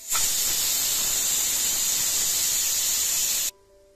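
A pressure cooker cooking chickpeas releases a loud, steady high-pitched hiss of escaping steam for about three and a half seconds, then cuts off abruptly to near silence.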